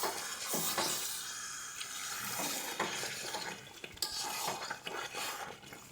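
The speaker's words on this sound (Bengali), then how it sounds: "এবারের মধ্যে আমরা একটু উষ্ণ গরম জল দিয়ে দিচ্ছি" Warm water poured into chicken curry in a pan splashes and gurgles softly, with light clinks and scraping in irregular bursts at close range.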